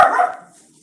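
A single loud dog bark close by, ringing briefly and then decaying into quiet room tone.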